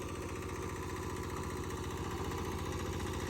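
A Kubota KRA75 7.5-horsepower diesel engine running steadily, a continuous rough, rapid chugging drone at constant speed with no pauses.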